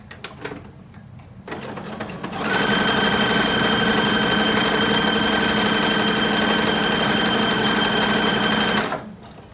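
A sewing machine runs a French seam on a 1940s-style wartime uniform, starting with a few short tentative bursts, then stitching steadily and loudly for about six seconds before stopping, close up with no talking.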